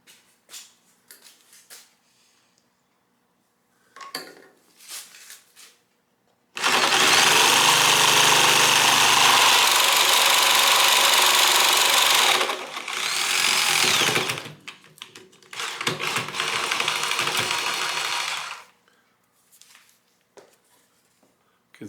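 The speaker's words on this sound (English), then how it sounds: "I'm going to go ahead and do it with the jigsaw here." A jigsaw cuts a block out of a boat part during flatbottom boat repair, buzzing loudly in two long bursts with a short pause between them, framed by quieter handling sounds and brief talk.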